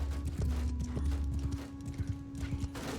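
Horse hooves clip-clop steadily in Mount & Blade II: Bannerlord during a night raid in a Roman-era setting, with a series of close, irregular thuds over a constant low hum.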